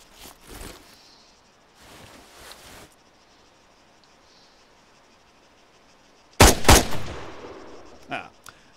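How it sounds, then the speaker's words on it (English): Rifle shots from the military shooter Arma III, fired from a prone position on a shooting range, crack sharply as a few isolated loud reports with short decays amid quiet ambience, with a voice speaking faintly. "When you're ready, put some rounds downrange."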